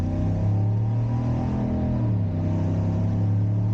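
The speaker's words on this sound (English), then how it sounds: "I love the sound of this truck, especially when you're getting on it" A 2025 GMC Sierra 1500 Denali Ultimate pickup's engine pulls hard under acceleration, a steady loud low drone with rising and falling pitch heard close from inside the cab, no talking over it.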